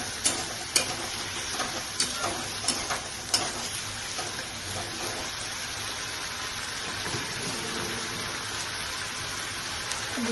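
Capsicum sizzling in a hot pan with garlic and tomato for a Bengali rohu fish curry, a steady soft crackle with occasional sharper pops and stirring clicks, fairly quiet throughout.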